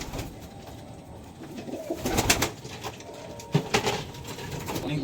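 Desi high-flyer pigeons coo at a pigeon sale, soft repeated cooing with a few louder bursts, close by and otherwise fairly quiet.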